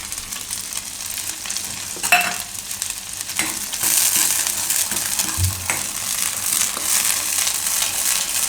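Garlic and green chilli sizzle and fry in a pan for garlic paratha, with a steady hiss, some stirring scrapes and a couple of sharper clinks, no talking.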